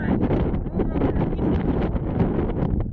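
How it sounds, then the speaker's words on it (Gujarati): Strong wind buffets the microphone in a steady, heavy rumble for the whole stretch outdoors in a cumin field, drowning out any other sound. "અટાણ પવન બહુ હોય એટલે અવાજ તમને આવતો હોય"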